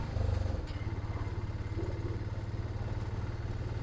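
Piaggio Ape Classic auto rickshaw engine pulling after an upshift, a steady, close mid-pitched putter with a pulsing throb that holds even and loud throughout, no talking over it.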